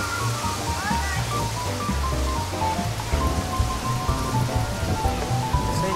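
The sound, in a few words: pouring fish stock into a paella pan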